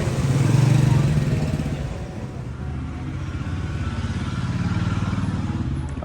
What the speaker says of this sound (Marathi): बाईक पण आलेले आहेत.